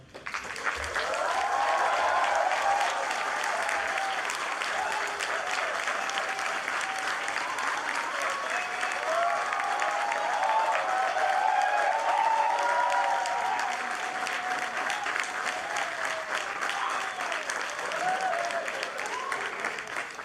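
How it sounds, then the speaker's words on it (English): A large audience at a graduation convocation applauds continuously for about twenty seconds, a dense, even roar of clapping that holds steady from start to finish. "Now the audience may applaud."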